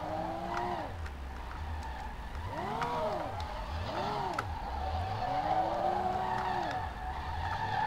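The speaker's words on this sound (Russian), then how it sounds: "Проба именно дрифта на этой машине." A Zhiguli car drifting in the SLRR game, tires squealing in repeated rising and falling arcs over a low engine drone, skids coming in close succession, no talk.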